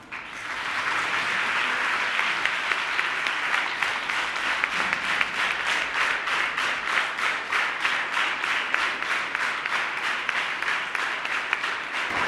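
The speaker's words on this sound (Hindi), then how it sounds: "इतने जोशीले बच्चे मैंने किसी और स्कूल के नहीं देखे जो कि अपने स्कूल के मैनेजमेंट का फेलिसिटेशन पे इतनी ज़ोरदार तालियां बजाए" Students at a school felicitation ceremony applaud loudly, a dense sustained clapping from a large group that settles into rhythmic unison claps toward the end.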